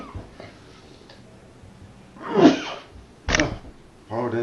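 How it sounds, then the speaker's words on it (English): A single sharp sneeze from a man at a poker coaching session, a sudden loud burst standing out clearly, followed by a brief exclamation and then talking. "Excuse me, I gotta sneeze."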